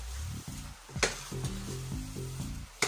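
Coated peanuts frying in a pan while being stirred, a steady sizzle broken by rhythmic scraping strokes and sharp clacks of the utensil against the pan, close and fairly quiet, with no talking.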